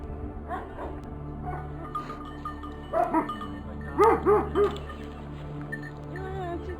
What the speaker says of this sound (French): Plusieurs patous et chiens de berger viennent à notre rencontre.